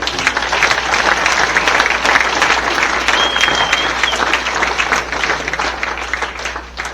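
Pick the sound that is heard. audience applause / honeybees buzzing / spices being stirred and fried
audience applause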